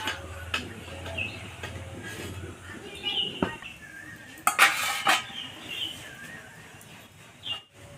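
Cooking pot of hilsa fish curry with green banana being lifted off a stove, metal clanks and scrapes of pot and utensils up close, with a sharp clatter midway and faint background noise.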